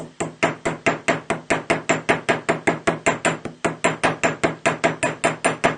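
A metal jewelry rivet being hammered flat: a steady run of about two dozen sharp, evenly spaced strikes, close and loud, with no talking.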